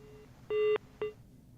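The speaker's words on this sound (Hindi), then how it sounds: "तकनीकी दिक्कत है, फोन उनका डिस्कनेक्ट हो गया" A live TV debate call-in drops as the viewer's phone line disconnects. A faint steady tone gives way to two short, loud electronic telephone beeps, one longer and one brief, then quiet line hiss.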